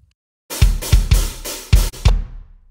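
A recorded drum mix from a cheap drum set in a home studio plays back as a loud run of about six punchy hits, with heavy kick thumps and bright crashing cymbal wash, ending in a decaying ring.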